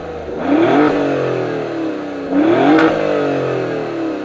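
A 2021 Alfa Romeo Giulia Quadrifoglio's 2.9-liter V6 revs twice, each loud blip sweeping up and falling back to a rumbling idle, heard up close with no one speaking.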